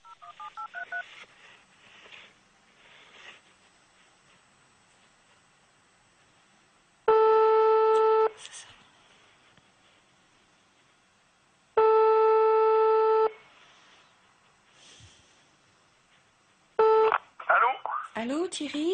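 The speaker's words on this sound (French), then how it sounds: "En dernier recours, elle tente de les appeler." A phone call being placed: touch-tone dialing beeps, then loud steady ringback tones repeating in long bursts with pauses, ending as a voice begins to talk.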